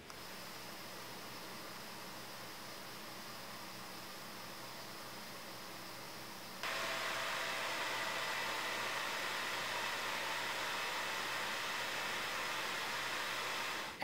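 A Gigabyte Brix mini PC's cooling fan runs in normal mode with a soft, steady airy whir, then about halfway through it becomes a noticeably louder hiss that continues to the end.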